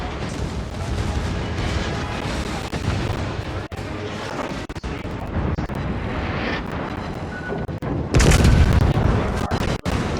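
Heavy naval gunfire from World of Warships, a dense rumbling barrage that runs throughout and swells into a louder, closer blast near the end, with faint voices underneath.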